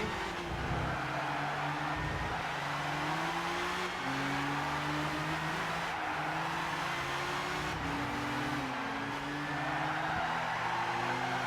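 Nissan 370Z race cars in the video game Gran Turismo 6, several engines droning and revving at high speed with shifting pitch, a dense continuous racing roar with no talk.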